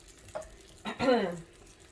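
Canned black beans hitting hot bacon grease in a pan, a brief stir-and-sizzle burst that flares up then fades within a second.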